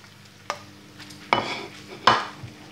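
Sweet onion morcilla goes into a pan of fried onion, giving a few distinct clanks and scraping knocks of utensil on pan, close and fairly loud, with a faint sizzle underneath.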